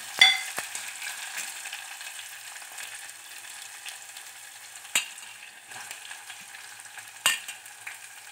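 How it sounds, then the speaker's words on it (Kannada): Green chillies fry in a pan during sambar preparation, giving a soft continuous sizzle with a few sharp clicks of a utensil against the pan. "ನೆಕ್ಸ್ಟು ಗ್ರೀನ್ ಚಿಲ್ಲಿ, ಸ್ವಲ್ಪ ಫ್ರೈ ಆಗಲಿ ಇದು."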